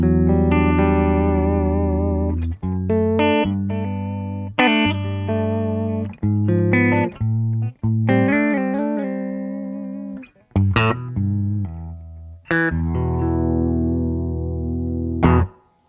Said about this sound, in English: Let's go to clean.